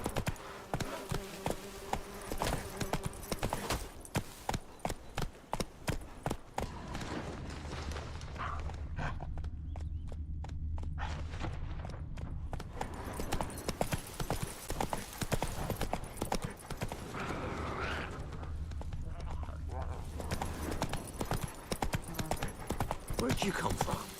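Geralt's horse Roach gallops in The Witcher 3, its hooves pounding in a fast, steady clip-clop rhythm, while someone talks over it and quieter stretches of lighter ambience come in between.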